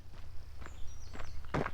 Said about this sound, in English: All I can hear are my footsteps and birds twittering away.